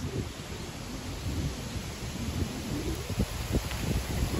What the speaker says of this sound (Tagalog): lakas ng hangin mga kaibigan ko grabe lakas ng hangin